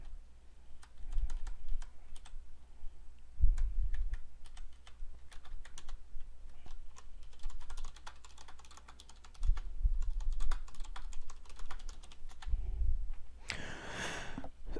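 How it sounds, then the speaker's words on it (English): Rapid keyboard typing in bursts, with short pauses between runs of clicks, close by and moderately quiet, ending with a brief rustle. "my typing is so horrible today."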